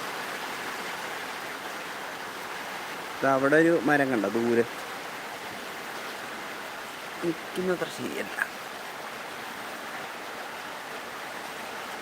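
Heavy rain in Changanassery falls as a constant, even hiss that fills the whole scene, while someone speaks briefly twice over it.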